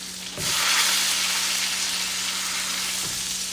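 Roast beef, cut into two pieces, sears in a hot pan with its sides held against the surface, giving a loud, steady sizzle that starts abruptly and continues without talk.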